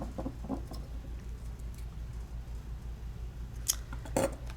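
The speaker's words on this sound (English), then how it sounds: "And then I'm going to trim it down." Scissors trimming creased craft paper, a few quiet snips and crisp cuts near the end over a low steady background hum.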